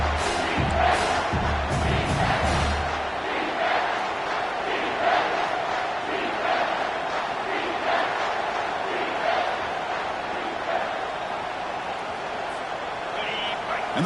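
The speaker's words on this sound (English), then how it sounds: "the crowd coming to life here" A large stadium crowd roars and cheers in the distance in a video game, a steady wall of noise with swelling shouts and a commentator's voice over it.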